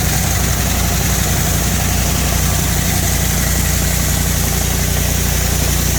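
An auger runs while nitrogen-treated seed is loaded, a loud, steady engine-like drone with constant low rumble and vibration throughout, no talk over it.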